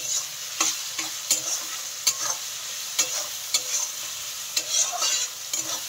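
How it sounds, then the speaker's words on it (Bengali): Vegetables sizzle steadily in a pan while a spatula scrapes and stirs them at an irregular pace, the scraping strokes sounding close and distinct over the continuous frying hiss. "আবার ভালো করে একটু ভেজে নিতে হবে"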